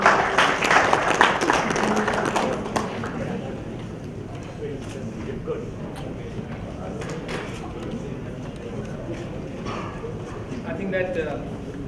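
Dense applause from the audience at the Yi Youth Conclave in Hyderabad welcomes a tennis player. It is loud for the first few seconds, then fades under a speaker's voice on a hall microphone.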